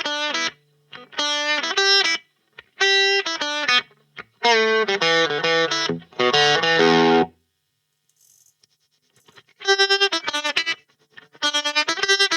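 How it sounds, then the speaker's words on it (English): Gibson ES335 electric guitar through a Greer Amps Lightspeed overdrive pedal straight into an amp, playing loud, crunchy, driven chords in choppy rhythmic bursts with short gaps, then more strummed chords after a pause. "So the ES335 into the Lightspeed straight into the amp sounds like this."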